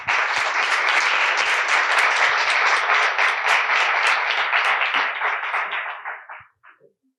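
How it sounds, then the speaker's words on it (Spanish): Audience applause after a speaker is introduced at a talk in the seventh edition of the El MAE se mueve lecture series, steady dense clapping that fades out over about six seconds. "un fuerte aplauso para los dos"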